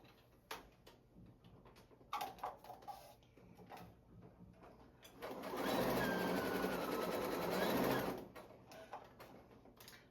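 A sewing machine stitches around the edge of a small fabric holder for Wonder Clips, a quiet start of scattered clicks and handling, then a loud steady whirring run of about three seconds before stopping.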